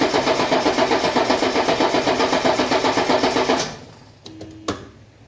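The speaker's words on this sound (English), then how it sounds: "Now I want to turn the car over. It's going to take about 30 seconds." The starter cranks a 1985 Mercedes 300CD diesel engine steadily and rhythmically to purge air, a loud, even churning that stops abruptly. A couple of faint clicks and knocks follow in near quiet.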